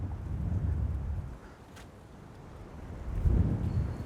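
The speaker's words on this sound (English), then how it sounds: "the wind's pushing hard left to right now" Strong outdoor wind on a disc golf course gusting hard, heard as low rumbling microphone buffeting that swells, eases briefly, then surges loud again with no talk.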